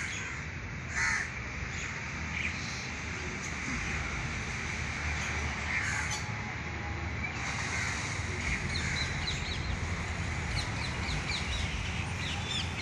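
Crows caw repeatedly in a garden, with pigeons nearby, loud harsh calls arriving in short bursts over a steady outdoor background hiss.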